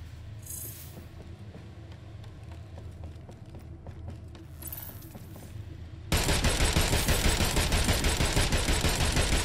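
Gunfire in the Agents of Mayhem video game: rapid repeated shots under a busy mix, then a sudden loud wall of sustained automatic fire that continues to the end.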